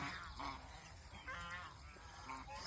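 A duck searching for a place to lay eggs gives a few faint, nasal calls spaced apart, quiet and distant against soft background noise.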